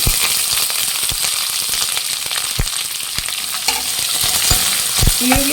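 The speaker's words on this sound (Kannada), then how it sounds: "ಚೆನ್ನಾಗಿ ಫ್ರೈ ಮಾಡಬೇಕು, ಗೋಲ್ಡನ್ ಬ್ರೌನ್ ಬರೋವರೆಗೂ." Onions frying in a pan for cabbage palya, stirred steadily: a loud, continuous sizzle up close with repeated clacks and scrapes of the spatula and no voices.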